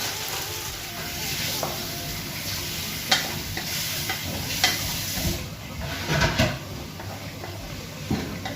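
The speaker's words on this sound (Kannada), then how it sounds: "ತೆಂಗಿನ ತುರಿಯನ್ನು ಸೇರಿಸಿ ಚೆನ್ನಾಗಿ ಮಿಕ್ಸ್ ಮಾಡ್ಕೊತಿದ್ದೀನಿ" Grated coconut being stirred into dry chicken sukka masala in a pan, a steady sizzle with a spoon scraping and knocking against the metal several times, close and fairly loud, with no talking.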